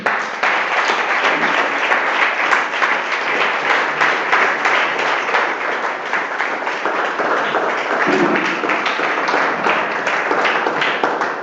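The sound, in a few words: congregation applauding in church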